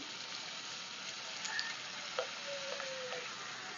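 Kachori frying in hot oil over a medium flame, a steady broadband sizzle throughout with a few faint crackles and pops, no voices.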